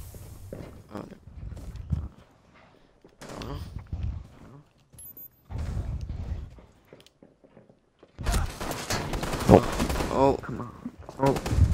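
Gunfire in Rainbow Six Siege, several short bursts of shots spaced by pauses, with players talking over the action and a denser, louder stretch of shooting toward the end.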